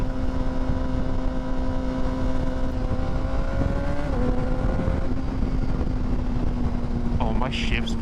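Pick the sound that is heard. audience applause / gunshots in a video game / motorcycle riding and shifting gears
motorcycle riding and shifting gears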